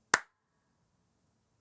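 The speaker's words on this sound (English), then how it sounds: "we will clap just once to synchronize for the engineers after 3" A single sharp group clap from a choir at a rehearsal, one crisp burst near the start followed by near silence.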